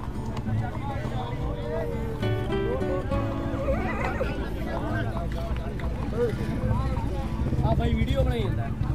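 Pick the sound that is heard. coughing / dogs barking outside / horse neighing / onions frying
horse neighing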